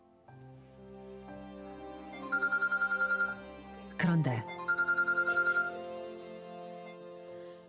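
A telephone rings with an incoming call in two bursts of rapid trilling bells, with a brief clatter between them, over a low background of talk and music.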